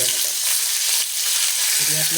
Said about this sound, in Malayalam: ഈ കരിയാപ്പ് വിട്ടേക്കാം